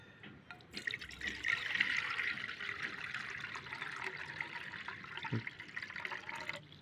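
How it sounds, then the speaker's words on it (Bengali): Water pours into an empty container, a continuous close splashing and trickling that fills the clip at moderate loudness. "আমি এখন একটি খালি পাত্র নিলাম। এরপর এতে একটু জল দেব।"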